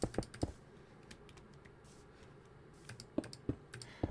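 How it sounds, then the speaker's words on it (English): A computer mouse clicks in small clustered bursts at the start and again near the end, with a quiet pause between, close-miked and faint against low room hiss. "the sound of my mouse clicking"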